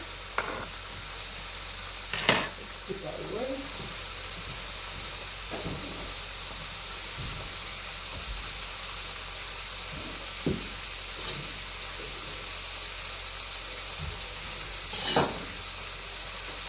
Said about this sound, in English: now this is sizzling